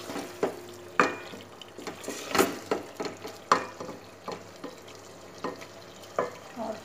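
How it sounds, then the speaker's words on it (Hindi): Chicken qorma with ground garam masala being stirred and fried in a pan, a spoon scraping in repeated short strokes over a soft sizzle, fairly quiet and close. "अब इन सारी चीज़ों की भुनाई करूँगी।"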